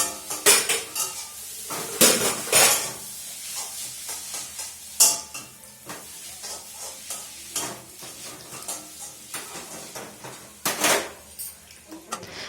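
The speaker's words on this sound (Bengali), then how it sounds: "চায়ের কাপ এখনো ধোয়া হয়নি, এখন ধোবো চার কাপ।" Ceramic tea cups clink and knock against each other and a metal sink while being washed by hand, with sharp irregular clatters, running scrubbing and splashes, close and fairly loud, no talk.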